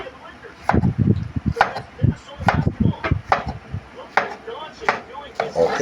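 A knife chopping food on a board, steady repeated sharp chops in an uneven rhythm, close and clear, with a voice talking over it.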